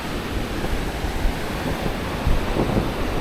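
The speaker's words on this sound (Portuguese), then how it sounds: "O mar está um pouquinho mais revolto, e está ventando" Rough sea surf and moderate wind at Jurerê beach in Florianópolis, a steady roar of breaking waves with gusty wind noise buffeting the microphone and surges of heavier surf, no voices.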